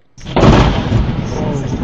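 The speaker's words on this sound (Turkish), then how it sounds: "yıldırımın düşmesiyle birlikte elektrik direğinde yaşanan patlama araç kamerasına yansıdı" A lightning strike hits an electric pole: a sudden loud blast followed by a sustained roaring crackle, close and heavy, filling the whole clip without letup.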